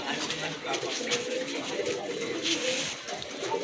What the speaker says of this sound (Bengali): এখানে দুই ব্রিডের কিন্তু দুইটা কবুতর রয়েছে